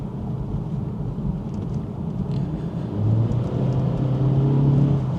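A 2024 Acura Integra A-Spec climbing a hill under power, heard from inside: a low engine drone and road rumble that swells into a stronger rising whine over the last two seconds, with no talk.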